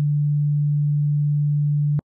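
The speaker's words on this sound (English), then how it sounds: "Sine waves sound really smooth. That's because they have no harmonics." Pure sine wave tone from the Logic ES2 synthesizer, one smooth steady low hum held for about two seconds before cutting off abruptly with a faint click, heard alone.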